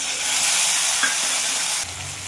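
Spice paste fries with onions in a pan as part of a fish curry, making a loud, continuous hiss and sizzle with an occasional stir, quieting slightly near the end, no voices.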